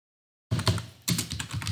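Keystrokes of someone typing a code comment on a computer keyboard, a quick close run of clicks starting after a brief silence, with a short pause midway before the tapping resumes.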